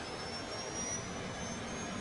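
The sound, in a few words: aircraft jet engine speeding up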